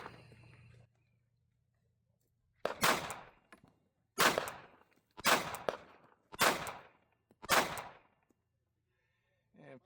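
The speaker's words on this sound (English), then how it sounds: "P365 SIG P365 XL with the Radian ramjets. We're going 15 rounds here." A SIG P365 XL pistol fitted with a Radian Ramjet compensator fires five sharp, loud shots about a second apart, each with a short ringing tail, outdoors at a range with quiet gaps between.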